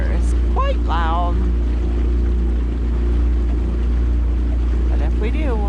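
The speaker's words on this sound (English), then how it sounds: "This motor is quite loud." A small jon boat's outboard motor drones loudly and steadily on Jackson Lake, a constant close engine hum with water noise, with brief bits of talk over it.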